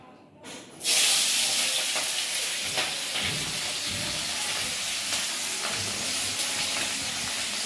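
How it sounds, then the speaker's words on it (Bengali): Onions hit hot oil in a pan for chicken curry, bursting into a loud, close, steady sizzle and hiss that carries on with occasional stirring scrapes. "পেঁয়াজগুলো একটু ভেজে নিই লাল লাল করে"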